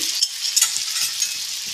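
Masvadi frying in hot oil, a close, continuous bright sizzle with a few crackling pops and no voices.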